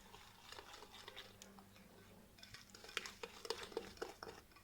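A spoon stirs a mixture in a bowl with soft scraping and light clinks against the sides, faint and irregular, growing a little busier toward the end.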